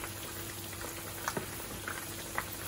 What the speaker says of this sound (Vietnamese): mình sẽ chiên ở lửa lớn nhất nha mọi người.